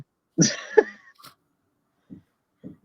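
A man gives a sharp, close cough followed by a second harsh burst, then a couple of quieter throat sounds trailing off in a silent room.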